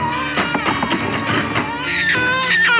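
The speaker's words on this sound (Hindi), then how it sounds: "बच्चा रो रहा है, सुनाई नहीं दे रहा है?" Infant crying in a tense action thriller film scene, a loud close wailing with rising and falling sobs and whimpers, steady over a low background.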